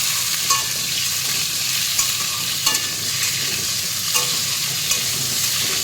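Steady, dense sizzling of bitter gourd and vegetables frying with a little salt in a pan, with occasional soft clicks of stirring. No voices are heard.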